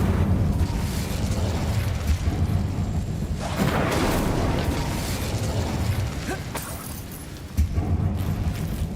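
The Incendio fire spell in the Hogwarts Legacy game erupts in a loud, dense whoosh of roaring flame and crackling bursts, sustained for several seconds with mechanical clanks and a final sharp pop, no talking.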